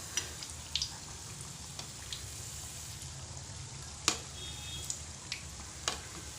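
Donuts frying in hot oil over a low flame while being turned, giving a soft, steady sizzle with a few sharp clicks and pops from the flipping.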